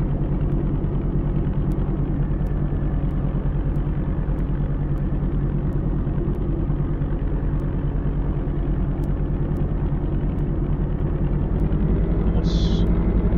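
Rutan LongEZ aircraft engine in a VR flight simulator droning loudly and steadily during the takeoff roll, a continuous low rumble with faint rhythmic ticks on top.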